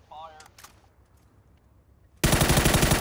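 Rapid automatic gunfire erupts in PUBG after a brief quiet moment, a loud sustained burst of shots close by following a short voice.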